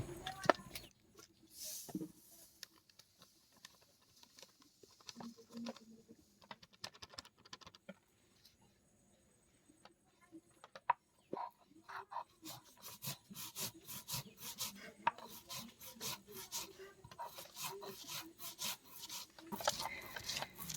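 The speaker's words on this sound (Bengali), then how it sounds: "পোস্ত আমরা এখন পোস্তটা বেটে নেব" Poppy seeds being ground into a paste on a traditional grinding stone, with repeated rough scraping and rubbing strokes of uneven loudness that get busier and denser toward the end, with no talking.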